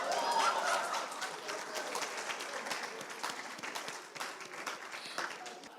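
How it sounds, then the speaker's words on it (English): An audience at an ICAI Oman Chapter annual general meeting claps for a prize winner, a dense, steady round of applause at moderate distance that slowly eases off over several seconds. "Let us give our winner a big round of applause."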